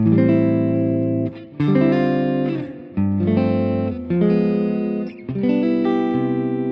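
A sustained guitar chord progression, several strummed chords ringing in sequence with brief gaps between changes, clear and close with no talking.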